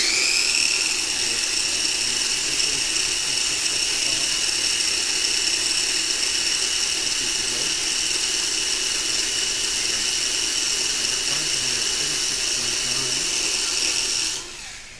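A Group 5 slot car runs on a test stand at about 22,550 RPM, a steady high-pitched motor whine with slight wheel hop, loud and continuous before dropping away at the very end.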